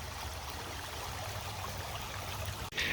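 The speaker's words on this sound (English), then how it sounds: "We're hoping this water's gonna start going down soon, because it's ripping." A river running high and fast in flood, heard from its bank as a continuous rushing, hissing stream of water, steady and fairly close, with a brief knock near the end.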